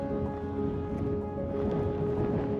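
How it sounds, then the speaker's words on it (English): Wind buffets the microphone on a mountaintop in Rocky Mountain National Park, a steady low rumble of gusts that holds loud and close throughout with no speech. "We're also getting hit with the wind again."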